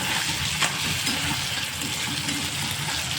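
Goat tripe frying in spices in a pan, a loud continuous sizzle with faint stirring, close and steady with no voices.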